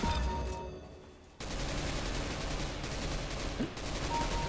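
Rapid bursts of MP submachine gun fire in the video game CS:GO, a dense crackling rattle that starts after a brief lull and continues near and loud, with faint game sounds around it.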